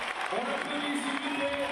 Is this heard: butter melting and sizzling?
no